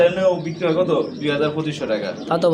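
Pigeons cooing at a pigeon market, soft repeated throaty coos that run under close, loud talk between people.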